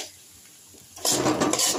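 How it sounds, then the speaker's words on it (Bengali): Flattened rice (poha) frying in a pan starts quietly, then turns into a near, scratchy rattle and scrape of grains stirred against metal for the last second, with no speech. "চিড়েটা ভাজা হচ্ছে, দেখুন চিড়েটা ভাজা হচ্ছে।"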